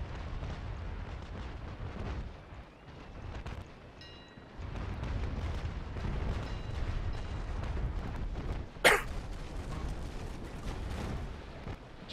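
Naval cannons in the Naval Action video game fire double shot, deep rolling booms and rumbling blasts that swell and fade repeatedly, with one sharp crack standing out.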